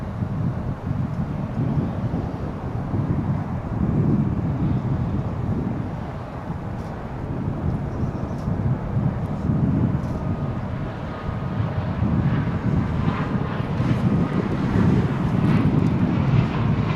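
A large airliner takes off from DFW International Airport, its broad engine roar rumbling steadily and swelling in waves over the whole stretch, mixed with wind buffeting the microphone.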